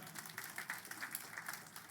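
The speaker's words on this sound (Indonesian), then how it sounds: "Beri tepuk tangan dulu untuk Tuhan." Congregation applause at a church worship night, a brief steady patter of many hands clapping, fairly distant and soft.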